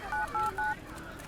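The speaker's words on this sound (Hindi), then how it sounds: "तू किसको इतनी देर से फोन लगा रही है?" Three short touch-tone dialing beeps from a telephone, evenly spaced and fairly clear, with a low room hum and faint background talk behind them.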